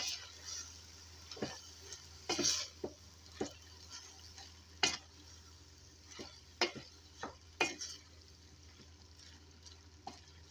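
Spoon stirring spinach into cooked, swollen bulgur in a pot, a series of irregular scraping and wet clinks against the pot over a low hum, close and moderately loud.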